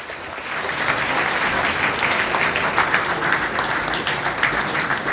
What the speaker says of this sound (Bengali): আমাদের স্যারের উদ্দেশ্যে একটা জোরদার করতালি হবে